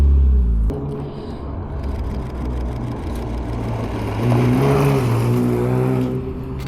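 A Nissan GT-R's engine rumbles close by as the car drives around a corner, a loud low growl that rises and swells midway before easing off, with no talking.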